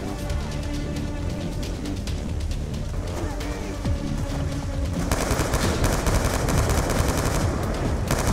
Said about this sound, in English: This is such a clean gun